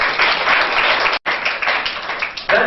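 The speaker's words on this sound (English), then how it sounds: "let us give the media who are here just a warm round of welcoming applause." An audience at the launch of Tourism Month in South Africa gives a warm round of welcoming applause for the media, loud, dense clapping close by that dips briefly near the middle, with no talking.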